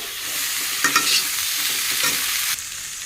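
Potatoes and kalonji seeds frying in a pan with salt and turmeric, a steady close sizzle broken by scraping stirs.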